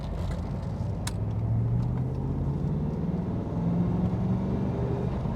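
A 1997 Firebird Firehawk with the LT4 engine accelerates after a quick U-turn in second gear. Its steady, loud engine drone rises in pitch as the throttle opens, with no talk over it.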